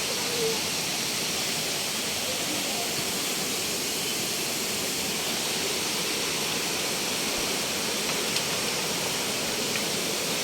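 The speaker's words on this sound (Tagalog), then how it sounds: "Ito yung Malatanog Falls." Malatanog Falls in Don Salvador Benedicto, Negros Occidental, pours as a tall waterfall, a loud, steady broadband roar of falling water that fills the scene without a break.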